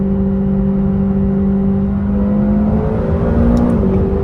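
A 2020 McLaren GT sports car accelerating hard, its engine a loud, steady drone with a rising tone that climbs through the revs, heard close from inside the car with no talking.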